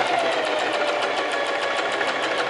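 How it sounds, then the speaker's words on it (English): A sewing machine runs on a foot pedal, stitching a double top stitch at a half-inch seam allowance, with a fast, even clatter of the needle close and loud throughout. "Turn the machine on, and I'm going to sew at my 1/2 inch with the foot pedal."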